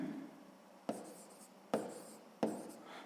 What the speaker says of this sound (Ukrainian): Записуємо 3 цеглини.